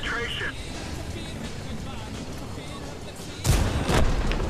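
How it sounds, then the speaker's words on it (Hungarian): Artillery gun firing in the tank battle game World of Tanks, heard as a sudden loud boom with a second blast, cutting through continuous engine rumble and a commentator talking throughout. "Hát ezt nem is tudom miért lőtt el az arti, ez teljesen felesleges lövés volt a részére."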